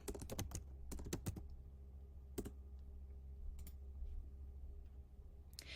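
Keys clicking on a computer keyboard while names are typed into a search box, a quick burst of taps at the start, a few isolated strokes later, close and fairly quiet against a steady background hum.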